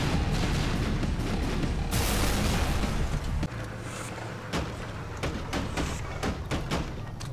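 Repeated explosions erupt in the Super Meat Boy video game as a vehicle crashes into a cliff, a dense run of booming blasts and sharp thuds. A heavy low rumble holds throughout, with no talk.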